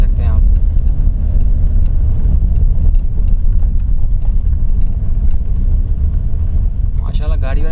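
Heavily loaded jeep rumbling along a hill road between Abbottabad and Thandiani, a steady close engine roar with wind buffeting throughout.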